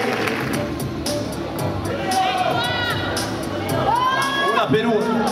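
A studio audience at an Italian live show cheers and applauds for a returning guest named Andrea, a busy crowd roar with whoops and whistles while people talk and shout over the noise.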